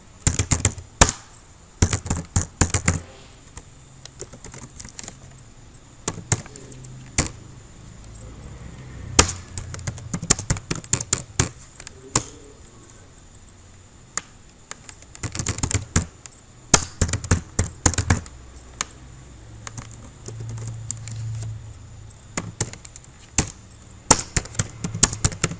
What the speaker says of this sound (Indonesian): kemudian kita ketikkan koma, kemudian enter, kemudian masukkan lagi atributnya